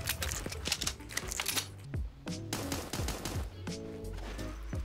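Gunshots in the cartoon battle royale Super Animal Royale crack in rapid bursts and single shots, fairly close, mixed with in-game effects and a little speech.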